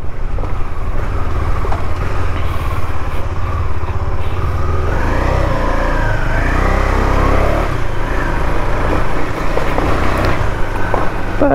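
KTM Duke 250 BS6 motorcycle riding on a road at around 9000 km, its engine a steady loud drone mixed with heavy wind rush across the whole stretch, no voices.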